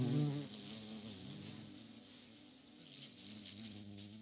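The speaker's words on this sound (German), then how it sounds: "hier ist ein Bienenstock." Bees hum around a beehive in Minecraft, a continuous close, droning buzz that wavers softly in pitch, with no voices over it.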